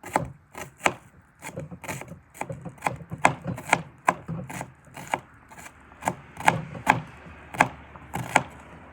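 A kitchen knife chops through food on a cutting board with a claw grip, about twenty crisp, evenly paced knocks of the blade against the board, close and clear with no talking.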